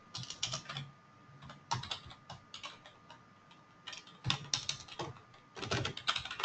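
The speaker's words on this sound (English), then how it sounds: "I'm typing it in this way." Fingers type on a computer keyboard while code is entered, producing bursts of quick, crisp key clicks with short pauses between runs, close and clear with no talking.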